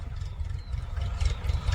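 A tractor engine idles close by in a farm field, a low, throbbing rumble with a slight rattle that stays steady through the short stretch.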